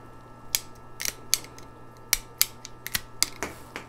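Pruning shears snip crisply through a branch a little under an inch thick, repeating in a quick, irregular series of about a dozen sharp, close cuts over a steady low hum, with no voices.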